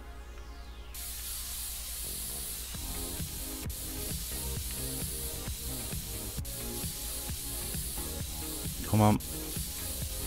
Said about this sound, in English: let's get the compressed air out now